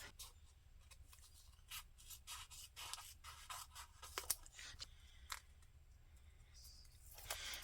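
Quiet snips of scissors cutting wide circles of washi tape in half, several short crisp cuts and papery rustles at close range against a soft background.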